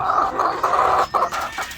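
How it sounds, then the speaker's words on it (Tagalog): White Leghorn crossed with Black Australorp hens cluck in a coop, a steady run of close, mid-pitched clucks with brief pauses, heard alone without talk. "Ito yung mga manok natin na White Leghorn cross sa Black Australorp."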